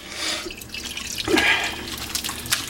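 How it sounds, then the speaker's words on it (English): A bowl is rinsed under running water: a few seconds of close splashing and dripping, with some louder spatters. "I'm going to take this here and rinse it out because I put the eggs back in it."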